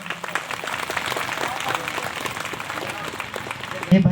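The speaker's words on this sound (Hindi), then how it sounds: "जोर से ताली बजाएं, परमेश्वर का धन्यवाद करें" A church congregation claps loudly and steadily in a dense, continuous wash of applause that fills the room, with a voice rising briefly at the end.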